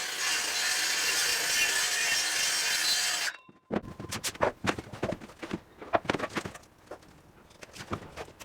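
Plywood is sawn by hand into a triangle, a steady rasping saw stroke for about three seconds, then a run of close knocks, clicks and handling clatter as the cut piece is moved.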